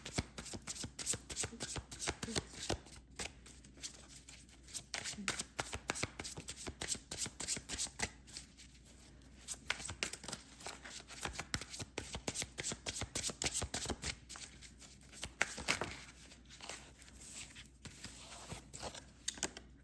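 Tarot cards being shuffled up close: a steady, crisp run of riffling and slapping card sounds that continues for about twenty seconds with no voices.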